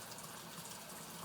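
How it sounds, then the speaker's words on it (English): Tap water runs steadily off downward-pointing hands during a hand-hygiene rinse before putting on sterile gloves, a continuous close splashing wash with no talk. "I'm going to let the water run off my hands, thus my fingers are pointing downwards"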